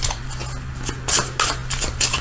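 A deck of Shadowscapes tarot cards is shuffled by hand up close, a series of quick papery riffles and snaps over a low steady hum.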